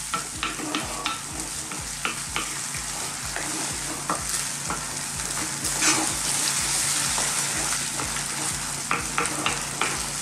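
Spaghetti is stirred through an artichoke and cream sauce in a hot pan, with a continuous bubbling sizzle and a quick rhythmic run of scraping strokes, up close and free of speech.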